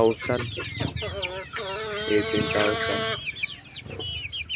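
Chickens in a free-range netted pen cluck and squawk at close range in a busy, overlapping chorus of rising and falling calls.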